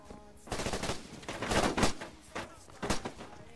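Bursts of gunfire in the video game Argo, several short rattling volleys at moderate loudness with brief pauses between them, nobody talking over them.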